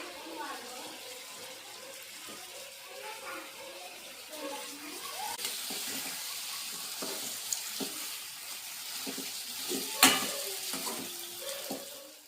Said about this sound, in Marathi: आता हे बघा मासे टाकून घेते